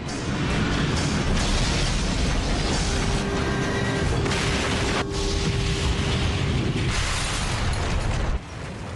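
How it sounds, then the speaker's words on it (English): Crash of American Airlines Flight 587, an airliner hitting the ground in Queens, New York, rendered as a continuous loud roaring, rumbling impact with dense crackling debris noise that holds steady before dropping off near the end. "At 9:16 and 15 seconds, Flight 587 slams into the ground."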